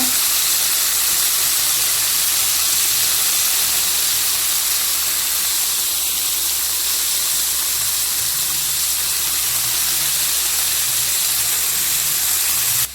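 Prawns masala sizzling in a pan, a steady, dense frying hiss that holds evenly for the whole stretch with no talking.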